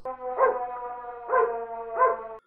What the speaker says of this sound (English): dogs bark with their mouth open all the time